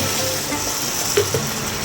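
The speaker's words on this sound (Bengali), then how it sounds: "ওই পেস্টটা আস্তে আস্তে তো ভাজা হবে" Steady sizzle of a spice paste frying in a pan for a paneer dish, with a couple of small pops and spits near the end.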